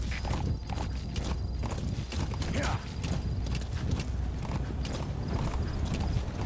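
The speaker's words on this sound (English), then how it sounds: "it sounds like the horse is being a bit stubborn" A horse in the video game Metal Gear Solid V, with loud, rhythmic hoof clip-clops, a whinny partway through, and mechanical game sounds over a low rumble, while voices talk at times.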